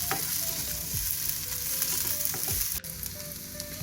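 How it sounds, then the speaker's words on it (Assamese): Capsicum frying in a pan for gobi manchurian, a steady close sizzle with occasional stirring scrapes and clinks, one sharp knock near the end, no voices. "কেপচিকাম ভাজি হৈ লওক"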